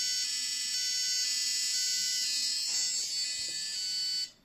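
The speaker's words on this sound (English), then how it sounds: "It basically plays an alarm over and over until the RPM returns to normal." An Abit motherboard's CPU fan failure alarm sounds as a loud, steady electronic tone with harmonics, running continuously for about four seconds before cutting off abruptly.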